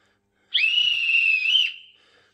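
A single long, shrill train staff whistle blast from a train simulator sounds alone, held for about a second before cutting off with a brief fading tail.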